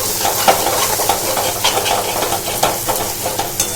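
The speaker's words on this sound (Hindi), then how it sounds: "हल्दी पाउडर को मसालों के साथ अच्छे से मिक्स कर देते हैं" Turmeric powder is stirred into spices frying in a pan for prawn masala, producing a steady sizzle and hiss with repeated scraping clicks from the stirring utensil, close and alone.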